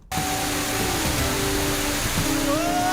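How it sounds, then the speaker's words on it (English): A burst of water from a mermaid-powers scene drenches a man: a loud, continuous rushing gush that holds steady for the whole moment, with faint tonal music underneath. "He got splashed."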